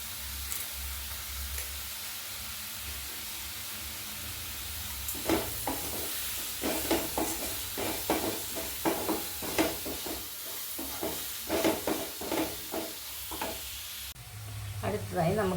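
A pan of ingredients for a sardine and tomato curry sizzles softly and steadily, then a spoon stirs it with a run of close scraping and clattering strokes over the frying hiss.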